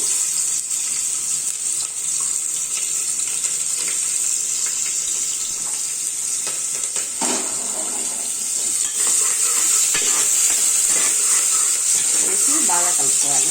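Curry leaves and onion pieces sizzle in hot oil with cumin and mustard seeds, a loud, continuous bright hiss with occasional pops, and a voice is faintly present.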